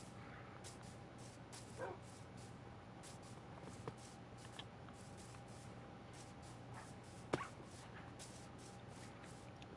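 Minecraft dogs yip, bark and whimper in scattered, faint bursts over a steady low game background, with a few sharper clicks standing out.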